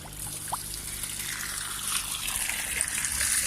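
Water trickles steadily through a homemade pond overflow siphon at a koi pond once primed, a continuous close pouring and dribbling stream that swells slightly louder toward the end, with no voices.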